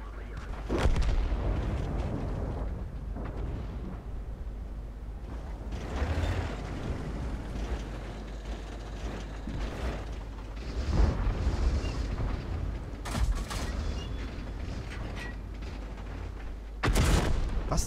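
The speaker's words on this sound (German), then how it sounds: "Was zur Hölle? Ach, Artillerie." Artillery shells strike in World of Tanks with deep, rumbling booms and sharp impact blasts scattered over a steady low engine drone. Several heavy hits arrive near the end, with a voice speaking at times beneath the noise.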